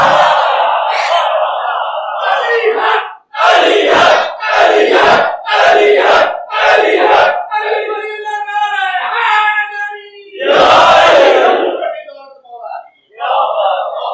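Audience at a Shia majlis during Muharram standing and chanting slogans, loud rhythmic call-and-response shouts in bursts, with a lone voice leading between the crowd's answering chants.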